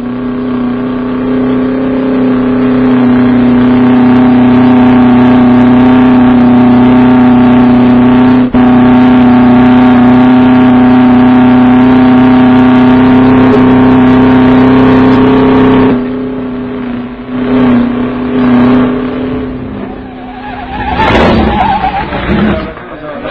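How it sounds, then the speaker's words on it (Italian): The Gilera Rondine record car driven by Taruffi runs flat out at top speed, its engine a loud, steady drone for about sixteen seconds before the note eases and wavers near the end. "la macchina raggiunge il massimo della velocità"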